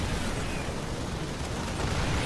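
A Terran siege tank is destroyed in StarCraft II, a loud, continuous crackling explosion with dense debris noise that holds steady throughout the brief moment, no voices audible.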